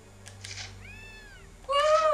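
A cat in the PS4 video game Gravity Rush Remastered gives two close meows, a softer drawn-out one followed by a louder, higher one, over faint background game noise.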